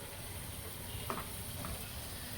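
Turmeric and asafoetida sizzle in hot oil as a tempering for egg curry, a faint, even hiss with one or two light stirring touches midway and no voices.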